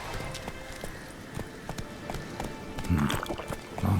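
Roach the horse trots along in The Witcher 3 video game, a steady run of fairly close hoofbeats with a few heavier thuds near the end.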